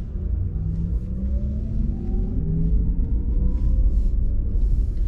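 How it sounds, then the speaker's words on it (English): A Porsche Taycan 4S electric car accelerates in sport mode with low rumbling road noise as a smooth electric whine rises steadily in pitch, near and fairly loud. "So I'm going to accelerate now in sport mode."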